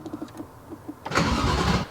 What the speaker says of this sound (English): And then I do the starter.